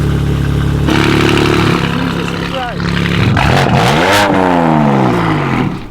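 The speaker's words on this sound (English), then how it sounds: "We have a Project Gama exhaust for a G82." A BMW M4 G82 fitted with a Project Gama exhaust revs loudly close by, its note climbing and falling in sharp sweeps over a rough idle while people talk over it.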